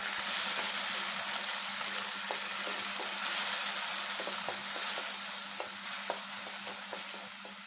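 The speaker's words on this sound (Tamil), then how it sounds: "இது நல்ல எண்ணெய் வெளியே வர வரைக்கும் வதக்கி விட்டுறலாம்" Paneer gravy masala sautéing in oil in a pan for a coconut milk curry, giving a steady close sizzle and crackle with occasional stirring clicks and a low hum beneath, no talking.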